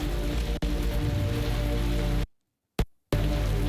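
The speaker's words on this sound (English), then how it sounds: "we needed that rain to put out that fire" Steady rain falls in the video game Typoman: Revised, a dense even patter that cuts abruptly to silence twice near the end before resuming.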